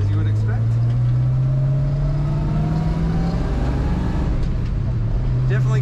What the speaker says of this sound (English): Definitely get good power from this engine.